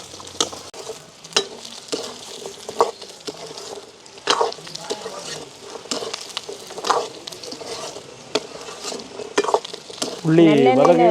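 Peeled garlic cloves frying in hot sesame oil crackle and sizzle close by, broken by repeated sharp clinks of a spoon against the pan and a louder bubbling burst near the end.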